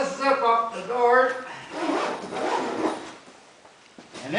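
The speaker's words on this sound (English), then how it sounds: "just zip up the door." A tent door zipper is pulled shut along a pop-up tent held by fiberglass tension poles, giving a close, rasping run of about two seconds after a person's talk, then fading.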